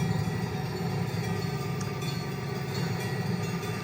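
Train rolling past in the Trainz 2009 rail simulator game, a steady loud rumble and rattle of railcars with faint clicking, continuous throughout with no voices.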